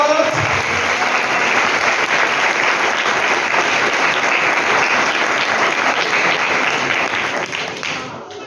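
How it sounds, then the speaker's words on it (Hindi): A church congregation breaks into sustained, dense applause that holds steady and loud for several seconds before fading slightly at the end. "कोई यीशु के लिए तालियां बजाएगा?"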